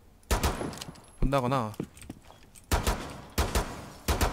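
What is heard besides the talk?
gunfire in the video game Rainbow Six Siege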